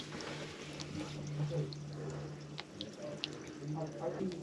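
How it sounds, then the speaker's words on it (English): Water from a hose runs steadily into wet soil outdoors, a soft continuous splashing and trickling with occasional drips, while people talk nearby throughout. "Okay, guys, run the water. Water's running."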